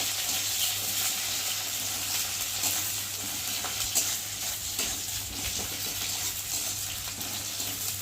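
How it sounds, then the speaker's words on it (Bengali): Onions and green chillies fry in hot oil in a continuous dense sizzle, loud and close, with a steady low hum underneath throughout. "দেবো কটা কাঁচা লঙ্কা দিয়ে পেঁয়াজটা একটু ভালো করে ভেজে নেব"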